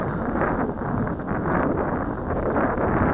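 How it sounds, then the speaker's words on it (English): Strong, steady wind buffeting a microphone outdoors at an RC airplane flying slope, a continuous loud rushing roar with no pauses and no voices. "This wind is interfering with this very light aircraft."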